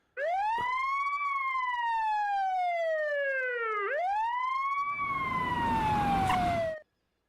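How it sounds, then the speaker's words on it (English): A police car siren in the Despera Drops video game wails loudly and steadily, its rising and falling tone sweeping continuously for several seconds before cutting off abruptly. "Just then, a police car pulled over across the street."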